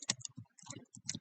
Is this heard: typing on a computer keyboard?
yes